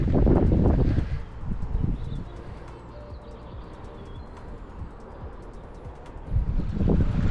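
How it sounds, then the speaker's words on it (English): Wind gusts buffet the microphone in loud rumbling bursts at the start and end, easing to a softer steady rush in between, while sea fishing on the Firth of Tay in February. "A little bit windy again,"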